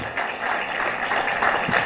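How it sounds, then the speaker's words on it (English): Applause greets the chairman at an insurance awareness month launch ceremony, a soft, steady wash of clapping from the audience, moderately distant, swelling a little toward the end. "Shall we please give him a round of applause as he accepts?"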